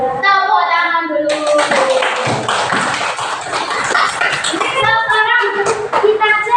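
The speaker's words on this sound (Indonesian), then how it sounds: "Tepuk tangan dulu." Children in a classroom clapping together in a burst of rapid, dense applause, framed by a teacher's voice talking before and after, with some chatter mixed in.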